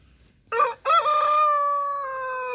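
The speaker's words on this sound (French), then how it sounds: "Donc, un coq saumoné, hein. Saumoné bleu, j'ai pas précisé." A blue salmon Brahma rooster crows once, close and loud, with a short broken opening note followed by a long sustained cry that holds steady to the end.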